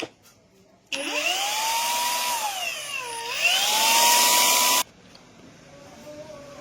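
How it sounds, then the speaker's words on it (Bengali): A battery-powered grinding machine runs for about four seconds with a loud, high motor whine that dips briefly in pitch midway, starting and stopping abruptly against quiet shop background. "এই যে এটা কিসিং গাইস, ব্যাটারির গ্রাইন্ডিং মেশিন"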